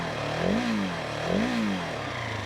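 A Husqvarna 701 Supermoto single-cylinder engine idles steadily and is revved twice in quick blips that rise and fall, heard close and alone.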